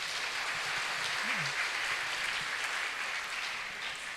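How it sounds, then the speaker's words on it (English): Audience applause at a golden jubilee talk, a steady, even hiss of many distant hands clapping for several seconds with a faint voice briefly underneath. "Can we have another round of applause for us,"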